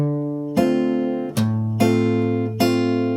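Nylon-style acoustic guitar plays a bossa nova bar: a thumbed bass note with plucked three-note chords, four clear ringing attacks in a syncopated pattern, close and solo with no voice.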